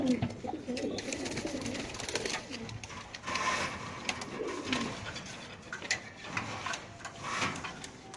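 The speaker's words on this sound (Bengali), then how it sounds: "আমাদের বিএপিসি ক্লাবের এই কবুতরটা একটু বার করেন তো" Racing pigeons coo at a pigeon club loft, soft repeated throaty coos close by with rustling and light handling noises, while people talk in the background.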